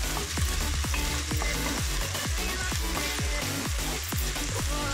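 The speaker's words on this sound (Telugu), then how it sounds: "తర్వాత ఒక ప్యాన్లో ఆయిల్ తీసుకొని అందులో ఆనియన్స్ వేసి బాగా ఫ్రై" Onions sizzle and crackle in hot oil in a pan, with continuous loud frying and rhythmic scraping as they are stirred.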